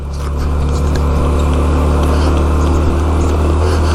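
A small scooter engine strains up a steep off-road hill in Baja Sur, giving a steady, loud, close drone that holds at one pitch throughout, with a rattling, bumpy ride over rough ground.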